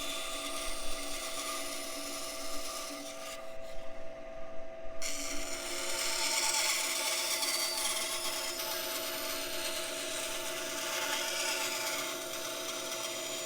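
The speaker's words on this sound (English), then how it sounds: "We can take them and individually cut them out on the bandsaw." Bandsaw cutting out wooden letters, a steady high whirring blade hum with rasping wood cuts, continuous and close, with a brief pause partway through.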